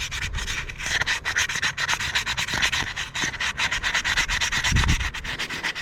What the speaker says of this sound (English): you're going to have to sand the whole thing in a complete loop